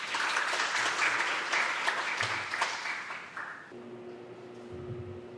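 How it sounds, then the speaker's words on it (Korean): An audience at a keynote lecture applauds to welcome a speaker, with steady close clapping for several seconds that then drops away into a low hum. "박수로 맞이해 주시기 바랍니다."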